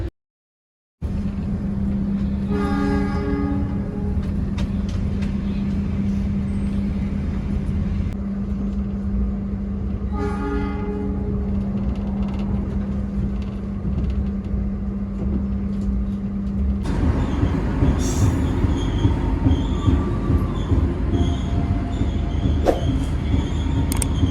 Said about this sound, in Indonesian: perjalanan kereta api Sangkuriang ini telah tiba dan berhenti di jalur 1 stasiun Pasuruan